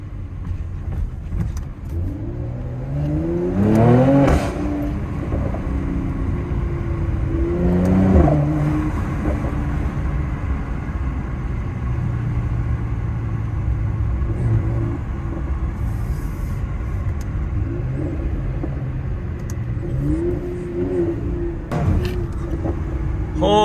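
A Mercedes C43 AMG engine revs loudly and close, rising through the gears with a shift around the middle, then settling into a heavy rumble while the car loses traction and slides.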